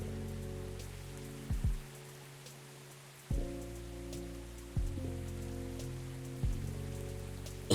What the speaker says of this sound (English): Too bad the Altair and Vega couldn't meet tonight with all this rain